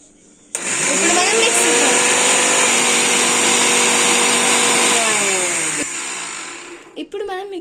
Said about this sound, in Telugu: ఇప్పుడు నేనైతే మిక్సీలో వేస్తున్నాను.